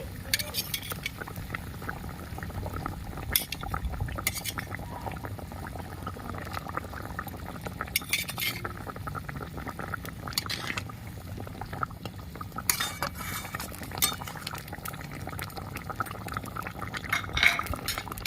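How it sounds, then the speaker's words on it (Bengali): Pieces of fried katla fish go into a simmering dahi (curd) gravy in a pan, with a steady bubbling and liquid splashing broken by occasional clinks and utensil knocks, with no talking over it. "ঝোলটা ভালো মতো ফুটে উঠেছে ভেজে রাখা মাছগুলো আমি দিয়ে দিচ্ছি"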